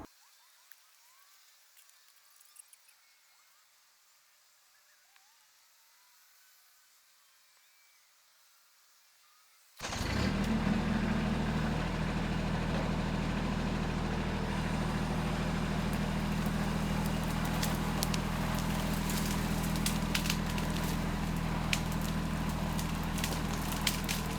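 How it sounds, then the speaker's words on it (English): Quiet outdoor ambience gives way to a loud, steady tractor engine roar as a winch line strains pulling a log down a trail, a continuous rumbling drone lasting over ten seconds. "wrap our winch line on the tractor and literally pull it straight down our trail"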